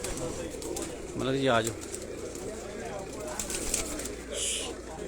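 A Shahzor pigeon coos briefly on a rooftop, a short rising-and-falling call standing out near the start amid faint background noise, with someone speaking nearby before and after.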